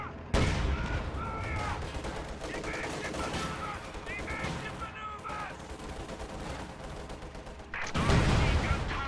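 Bursts of machine gun fire and scattered gunshots in a WWII strategy video game battle, with a loud explosion-like boom near the end, continuous and close.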